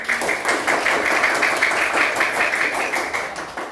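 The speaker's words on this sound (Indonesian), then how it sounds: "Tepuk tangan buat" A classroom of pupils claps for a classmate in a lesson about rice plants, a dense, steady patter of many hands lasting throughout at close range, with no talk over it.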